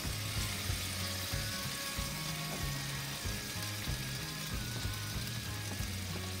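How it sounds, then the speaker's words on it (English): Crushed tomatoes going into a reduced, simmering sauce in a pan, a steady bright sizzle and bubbling hiss with faint clinks, continuous and close. "we're going to add these beautiful crushed"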